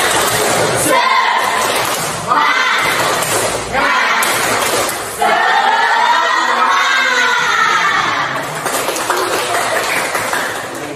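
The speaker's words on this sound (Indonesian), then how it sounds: "Silakan. Tepuk semangat." A school biology class joins in a tepuk semangat clapping chant: loud bursts of rhythmic clapping mixed with children's shouted chanting voices, filling the room for the whole stretch.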